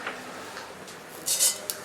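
Faint crackling and sizzling as mustard seeds hit hot oil in a pan, with a few sharp clinks of metal utensils, no talking.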